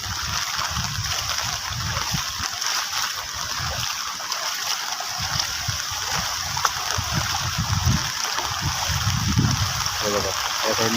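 Floodwater from heavy Konkan monsoon rain rushes across a road, washing away its gravel, with a loud continuous splashing gush throughout and someone talking over it.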